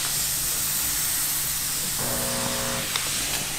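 MondoVap 2400 steam cleaner hissing steadily as it steams fabric on a chair, close and continuous, with a faint tonal hum joining partway through.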